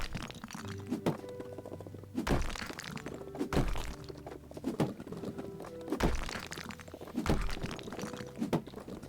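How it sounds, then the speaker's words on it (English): Walls get knocked down in the House Flipper video game with a run of heavy, evenly spaced thunks and crumbling cracks, about one blow every second or so, loud and close with no talk. "now we need to destroy 300 walls"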